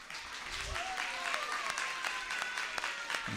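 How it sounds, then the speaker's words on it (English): Devotees clap steadily at a kirtan, a dense run of hand claps with sharp individual slaps standing out, a faint sustained tone running beneath, and no talk. "The clap can be a little bit louder."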